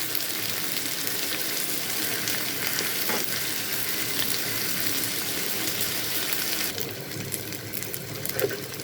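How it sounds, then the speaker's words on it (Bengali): Pre-washed rice goes into a frying pan of lightly browned ingredients while making khichuri: a continuous loud sizzle throughout, with a noticeable shift in texture near the end as the grains hit the hot oil. "এই মতো অবস্থাতে আমি এখন চাল দিয়ে দিব।"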